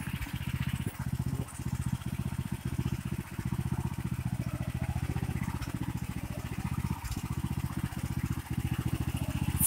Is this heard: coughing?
no